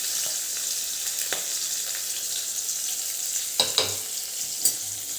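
Chopped garlic, green chilies and onion sauté in a hot pan with a loud, steady hiss and crackle, a few sharper spatters and stirring clicks near the end, and no voices.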